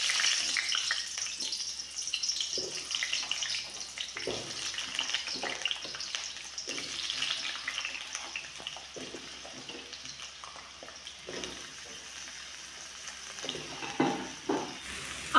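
Cut potatoes fry in hot oil with dry red chilli and five-spice for a Bengali aloo dum, a soft steady sizzle with faint stirring clinks, fairly quiet throughout.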